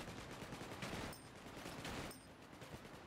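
Shotgun fire in the video game Wormhole Wars: dense, roaring blasts with two heavier bursts, mixed over constant loud game noise.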